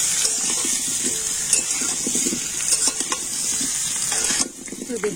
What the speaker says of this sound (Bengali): লবণ আর হলুদ দিয়ে আলুটা আমি একটু লাল লাল করে ভেজে নেব।